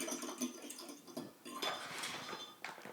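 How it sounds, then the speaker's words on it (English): A spoon stirs a tablespoon of powder into liquid to dissolve it for homemade liposomal vitamin C, giving faint, irregular scraping clinks against the container that sit close and quiet, with no talking. "Just keep stirring."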